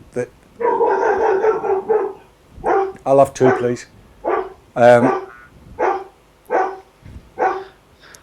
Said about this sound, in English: That's my dog just got into guard dog mode.